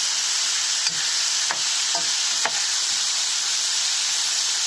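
Fish fillets sizzling steadily in hot oil in a pan, a continuous loud hiss broken by a few soft clinks and scrapes as pieces are turned one by one; no one talks.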